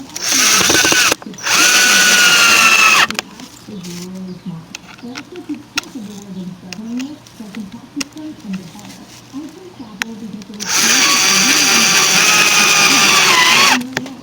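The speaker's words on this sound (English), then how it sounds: "these screws were perfect choice. Go right in and secure the light." A power drill drives screws into a deck to mount a light: two loud whirring bursts at the start, then a quieter stretch of scraping and handling, then another long whir, all close up.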